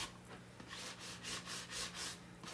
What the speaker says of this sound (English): You can go through, you can do a little bit of sanding.